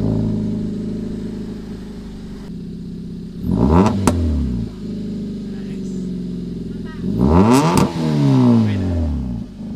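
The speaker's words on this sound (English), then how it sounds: "Excited to hear that exhaust note." A Hyundai Veloster engine idles with a throaty rumble through a new exhaust on first start, then revs sharply twice, each rev rising and dropping back to idle.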